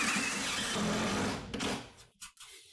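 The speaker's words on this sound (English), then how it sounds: "we're going to be putting in a screw" A drill drives a screw into cement board, a short buzzing whir that grinds for about a second and a half, then stops with a few clicks and light handling noises.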